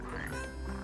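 Frogs croaking in the video game Final Fantasy 15, heard as a dense, low, continuous chorus that fills the brief moment at a fairly quiet, steady level, with no voices over it.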